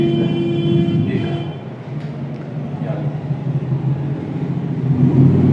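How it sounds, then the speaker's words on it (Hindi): A motorcycle putters around outside a classroom in India, a low engine rumble that rises and falls under a teacher's continuous speech. "अभी क्या यहीं टहला रहा क्या ये मोटरसाइकिल"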